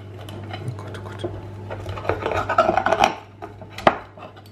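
A knife cuts a thin baked dish into pizza-like slices, producing a run of crisp scraping and chopping strokes against a board or pan, growing denser and louder toward the end, with no speech.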